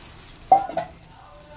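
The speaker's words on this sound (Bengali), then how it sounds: "এবার আমি এর মধ্যে পরিমাণ মতো জল ঢেলে দিলাম।" Water poured into a pan of spiced potatoes for a fish curry, a short splashing sizzle that rises sharply then fades into a low bubbling hiss, with no voices.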